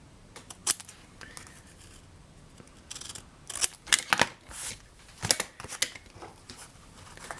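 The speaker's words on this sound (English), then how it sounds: "So now I'll cut the corners and turn the edges." Scissors cutting the corners of paper covering a stacking box lid: a series of close, crisp snips and paper rustles in irregular bursts, louder clusters in the middle, with no speech.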